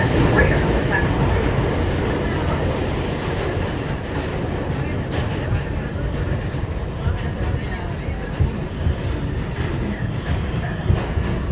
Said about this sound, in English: This is 168th Street bound C local train.